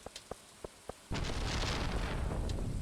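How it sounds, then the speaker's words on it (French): An explosion in Stardew Valley: five light, evenly spaced clicks come first, then a sudden loud, sustained rumbling roar that fills the rest of the moment. "Ça explose fort."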